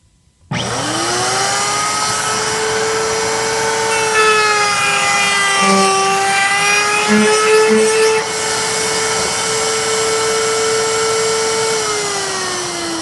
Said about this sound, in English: we're going to go ahead and do that to this one with this router here